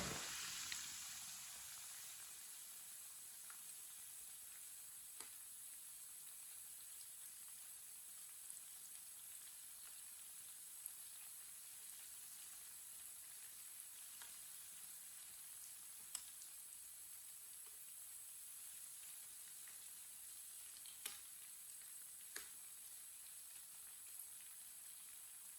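Pakoras fry in a small amount of oil with a faint, steady sizzle and scattered soft pops, heard alone and without speech.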